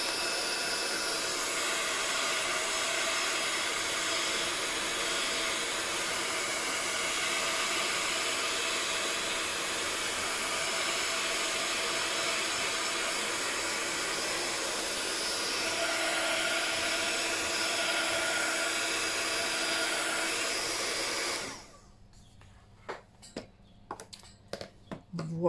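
A blow dryer blasting hot air to dry a workpiece, a steady loud whooshing hiss held for about twenty seconds before it cuts off, followed by a few light handling knocks.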